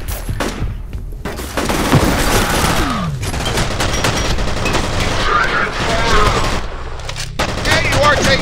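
Rapid bursts of rifle and machine-gun fire in the shooter game F.E.A.R. rattle loudly and almost continuously, broken by short pauses, with a player talking over parts of it.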